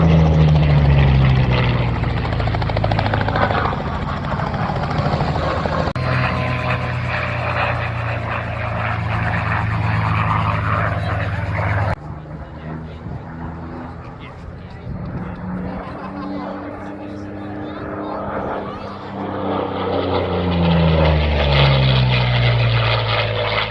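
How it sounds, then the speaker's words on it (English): A P-40 propeller warplane roars past nearby at an airshow, its heavy engine drone rising and falling over a steady rumble, with a voice talking over it. "Right now we're getting the joy of a fly past of the P-40."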